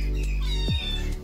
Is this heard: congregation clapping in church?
no